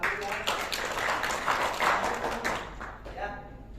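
An audience at an entrepreneurship training seminar gives a brief burst of dense clapping that stays steady for a few seconds and then fades out.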